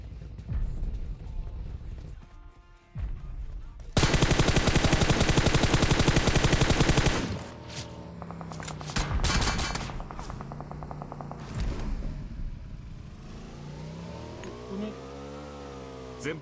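Enemy gunfire in PUBG Mobile: a dense, sustained burst of rapid shots lasts about three seconds, framed by scattered single shots and vehicle engine noise.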